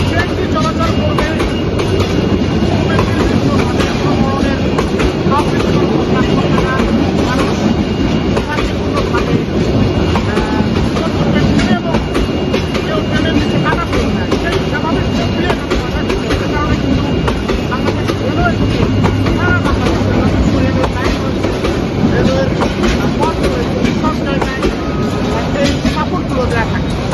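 A train runs steadily past a railway crossing at Karwan Bazar, where the warning bells and phone line are broken, with continuous loud rumbling and rail clatter, while people talk over it.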